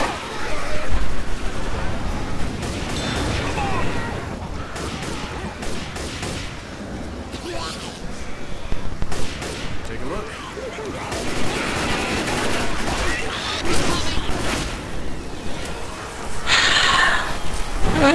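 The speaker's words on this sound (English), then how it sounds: "I'll try this rifle." Rifle gunfire in the zombie shooter Left 4 Dead 2, a Versus match on the No Mercy campaign, with sustained bursts of shots and game noise running throughout, loud and close, with players talking over it.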